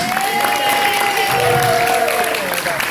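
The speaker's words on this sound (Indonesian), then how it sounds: "Tepuk tangan yang keras." A stand-up comedy audience breaks into loud, continuous applause with some cheering mixed in, a dense crowd clapping evenly from start to finish.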